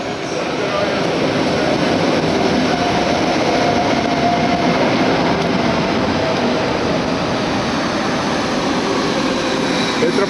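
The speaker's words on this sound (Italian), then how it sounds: "E anche oggi siamo qua in metropolitana." A Rome metro train in motion, heard from inside as a loud, steady rumble and rushing roar of the carriage that continues without break throughout.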